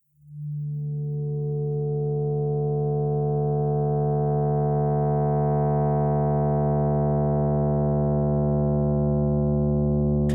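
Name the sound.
synthesizer filter bass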